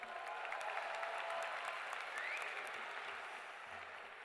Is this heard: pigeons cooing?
no